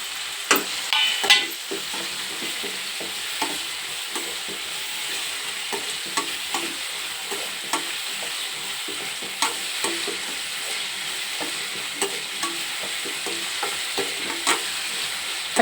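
Curry leaves sizzle in hot oil with tomato and turmeric in a pan for Udupi-style rasam, a continuous moderate frying hiss broken by frequent spoon-stirring clicks and scrapes.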